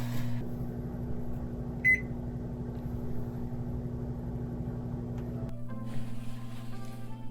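An oven baking melon bread hums with a steady, low electrical drone that shifts tone partway through, with a faint short beep near the start and no talking.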